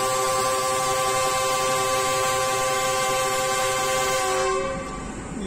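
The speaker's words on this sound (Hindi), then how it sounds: "ये लॉन्ग विसल है जनाब" A Pakistan Railways 104 Down Subak Raftar rail car bound from Rawalpindi to Lahore sounds a long, loud, steady whistle as it departs, the chord sustained for several seconds over engine rumble before cutting off.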